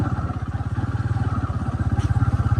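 A Pulsar motorcycle engine running steadily nearby, giving a loud, even, rapid low thumping throb with no talking over it.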